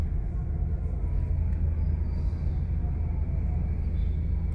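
A steady low rumble of a passing LRT train near Boni Station on EDSA fills the scene, constant and fairly close, with no voices.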